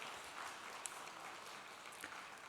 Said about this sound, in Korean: 우리 한번 격려의 박수 한번 보내주시면 좋겠습니다